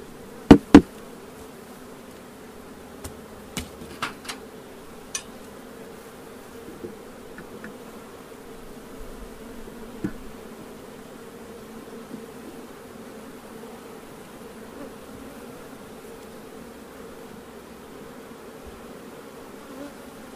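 Honey bees drone steadily in a low, continuous buzz around an open hive as frames are handled, with a few sharp clicks and knocks at the start and scattered throughout.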